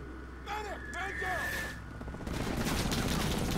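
Machine gun fire in Call of Duty: Modern Warfare (2019) rattles in a dense, sustained burst after a few seconds of game noise and chirpy sound effects, loud and continuous to the end.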